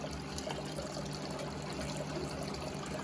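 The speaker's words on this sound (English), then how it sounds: "I'm gonna turn the water up just a little bit more" Quiet, steady trickle of tap water being turned up slightly while silver chunks are rinsed, a soft continuous splashing stream with no voices.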